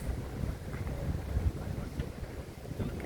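Wind blows steadily outdoors near a mountain on a breezy day, a continuous low rushing roar that buffets the microphone, with no talking.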